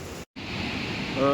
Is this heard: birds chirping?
no